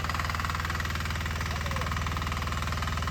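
A tractor engine idles on a village farm field with a steady, rhythmic low chugging pulse, moderately close and fairly quiet.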